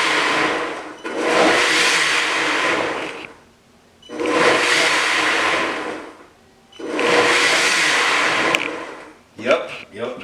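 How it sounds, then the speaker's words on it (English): A blender running in three long, loud bursts with short pauses between, blending garlic in water during homemade beef jerky prep; a few clattering knocks follow at the end. "I'm just going to go blend this up real quick."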